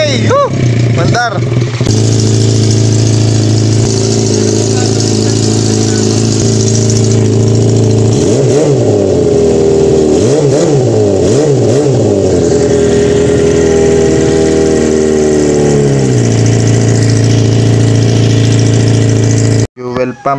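A Yamaha FZR 250 motorcycle under restoration runs close by, idling steadily and then blipping through a series of quick revs before settling back to idle, with people talking over the engine.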